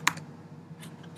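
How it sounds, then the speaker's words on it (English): A short burst of keypresses on a computer keyboard, a quick cluster of sharp clicks at the start followed by a couple of softer taps over a low background hum. "So I'll just type in Swampy again"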